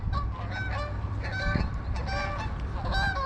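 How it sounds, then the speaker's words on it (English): Geese honk repeatedly and loudly nearby, several birds calling over one another in a continuous noisy chorus. "And here come the geese, and they don't care."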